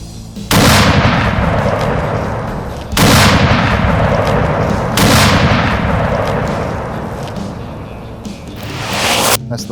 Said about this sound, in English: it's such an honor to strike the primers and see what this big bore double rifle can do